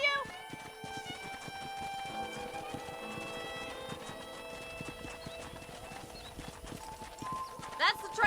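A horse's hooves clip-clop steadily at a gallop through a Red Dead Redemption frontier town, with a neigh or whinny and a rider's shouted commands over a bed of game music and ambient sound.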